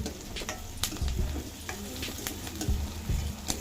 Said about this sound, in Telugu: బాగా ఫ్రై అవుతుంది కదా ఫ్రెండ్స్, ఇది కాస్త మనం ఇట్లానే వేగనిద్దాం.